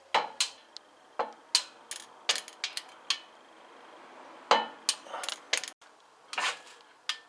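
A Porsche 944 suspension bolt is torqued to 100 Nm with a torque wrench, giving a series of sharp metallic clicks and clinks at irregular intervals, close and fairly loud.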